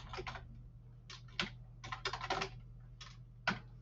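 Code typed on a computer keyboard, quiet clusters of quick key clicks in short irregular bursts separated by brief pauses, close to the microphone with no talk.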